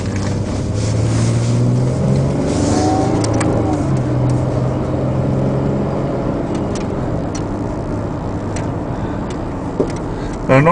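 A Ford Taurus cruising down the road, its engine holding a steady low drone with road and wind noise throughout, fairly loud and close from inside the car, with no talk.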